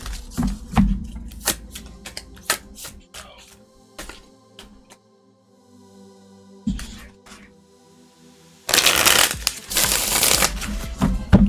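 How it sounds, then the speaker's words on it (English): Cards are shuffled in quick riffling bursts with clicks and taps, ending in a loud, dense flurry of shuffling; a voice speaks briefly. "We're going to shuffle this deck up a little bit."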